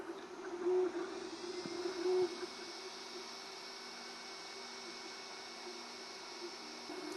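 An Ender 3 V3 SE 3D printer running a print, giving a steady close whir with fluctuating stepper-motor tones and a couple of brief louder swells.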